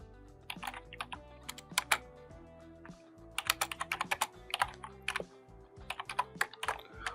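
Python code typed on a computer keyboard in a programming lesson: bursts of rapid, close keystrokes with brief pauses between runs, clear and alone with no talking.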